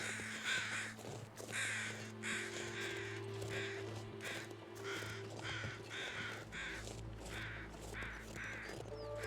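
Several crows caw in repeated rough calls across a snowy wilderness in The Long Dark, the harsh cries carrying over a steady low wind and ambient hum.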